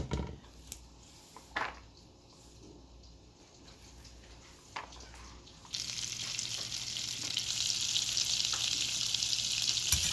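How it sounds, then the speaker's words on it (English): Garlic sautéing in a pan for callaloo: a faint kitchen hush with a few soft knocks gives way midway to a loud, steady, close hiss of frying that holds to the end. "I want to saute the garlic, because I don't want that"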